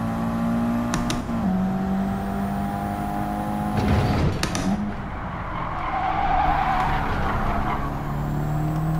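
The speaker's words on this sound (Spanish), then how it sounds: "Me ha patinado el coche." Race car sliding out of a corner exit in Gran Turismo 7, steady engine drone with a tire skid and whir rising midway, loud and continuous with no talk.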